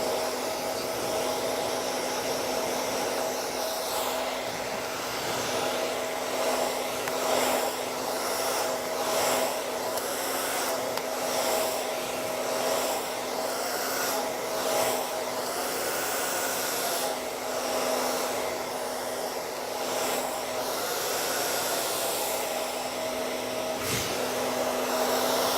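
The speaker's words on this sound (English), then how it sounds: "And then you can blow dry that into the hair." A hair dryer blows steadily on hair being styled, a loud continuous whooshing hum lasting throughout with slight wavering as it moves, and no talking.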